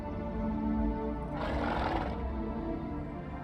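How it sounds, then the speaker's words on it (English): A horse in the video game The Witcher 3 gives a short whinnying neigh over a steady background of game ambience and music. "Ought to thank my horse, actually."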